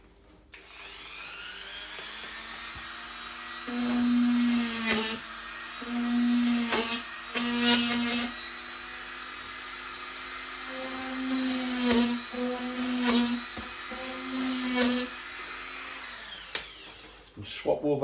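A drill boring into a fibreglass engine cowl for a Flair DR1, a close high whine in several short bursts separated by brief pauses, running steadily with no voices over it.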